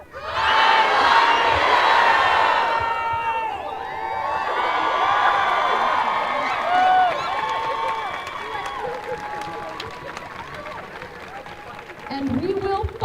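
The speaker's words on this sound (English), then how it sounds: "I want everyone in this crowd to scream, "I love you," on the count of 3" Crowd at a Utah transgender rally screaming together in a loud sustained roar of overlapping voices that slowly fades, followed by a quieter murmur.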